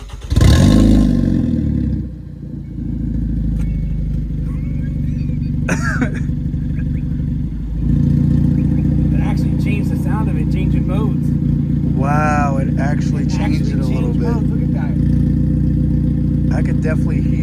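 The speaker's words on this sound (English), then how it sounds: "is what a dumped header sounds like. Or not header, a dumped downpipe." A 2024 Hyundai Elantra N with an open, dumped downpipe revs loudly and close by, with a sharp blip first, then a steady rumbling idle that climbs into sustained higher revs. Voices talk over the engine throughout.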